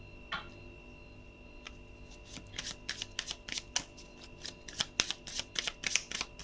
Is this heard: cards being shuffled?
yes